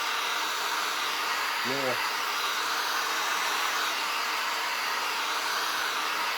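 A heat gun blows a steady, loud, close roar while warming a plastic milk jug, with a brief voice speaking over it near the start.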